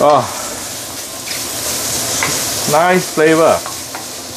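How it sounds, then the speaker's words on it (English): Shiitake mushrooms frying in hot oil tinted orange by carrots, a steady broadband sizzle running throughout while a voice speaks briefly at the start and again near the end. "shiitake mushroom require some direct contact with your hot oil"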